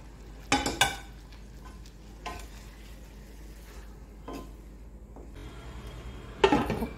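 Half-fried fish and a splash of water go into boiled masoor lentils in a pan, bringing soft sizzling and stirring with a few sharp clanks of utensil on metal at the start and end, fairly quiet, no talk.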